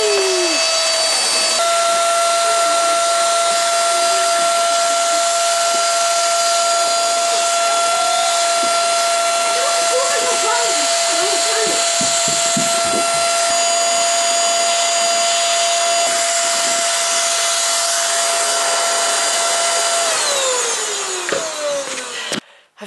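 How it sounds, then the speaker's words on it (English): Vacuum cleaner hoovering through a house being readied for sale, a steady loud motor whine held for about twenty seconds with occasional rattles and bumps, then winding down at the end. "Mass hoovering"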